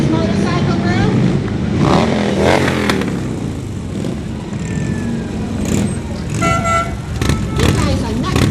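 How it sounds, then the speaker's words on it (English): Shriners motorcycle group rides past in a parade, engines rumbling and revving under crowd noise and an announcer's voice, with horn toots and a siren-like whistle sounding toward the end. "This is the Shriners Motorcycle Group."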